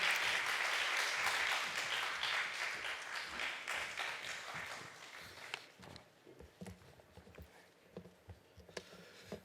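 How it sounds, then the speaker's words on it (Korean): A seminar audience claps to welcome Pastor Choi Sae-rom to the stage, a full burst of applause that thins out over several seconds into a few scattered claps and shuffling. "여러분 다 함께 박수로 우리 환영하도록"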